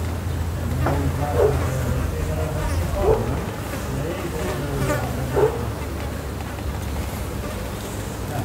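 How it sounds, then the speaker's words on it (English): A wasp buzzes near a person making frozen yoghurt with organic blackberries outdoors, its drone rising and passing close in three brief swells over a steady low background hum, with no talk. "Sometimes there's a wasp, so I'll be careful. Yes, the wasp."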